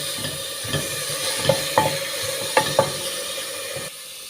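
Vegetables sizzle steadily in hot olive oil as a utensil stirs them, with several sharp scrapes and clinks against the pot over a constant frying hiss.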